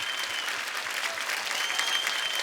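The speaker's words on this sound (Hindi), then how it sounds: "आपकी जोरदार तालियों के बीच स्वागत करना चाहूंगा मिस्टर इरफान खान का।" A studio audience on a Kapil comedy show applauds to welcome actor Irrfan Khan, steady dense clapping from a large crowd, bright and continuous throughout without pause.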